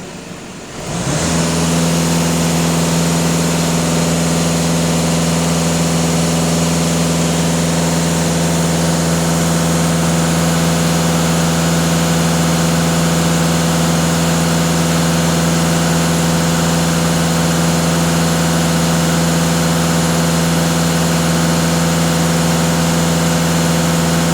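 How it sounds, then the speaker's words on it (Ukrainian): A VW Golf 2.0 TDI diesel engine, run during DPF and EGR cleaning work, is held at full throttle: a loud, steady, droning roar that rises within the first second and holds unchanged for over twenty seconds, with no talking. "даю газ в пол"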